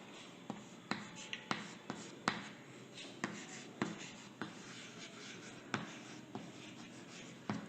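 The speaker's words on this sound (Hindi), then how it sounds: "और आखिरी पॉइंट और सबसे खास पॉइंट लिखते हैं।" Chalk or marker taps and scratches on a board during a physics lesson, an irregular series of crisp strokes and clicks, close and fairly quiet against a faint room hiss.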